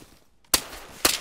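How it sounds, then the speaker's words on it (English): Two sharp gunshots from the video game DayZ crack about half a second apart, fairly faint and isolated against quiet background. "He's shooting at me."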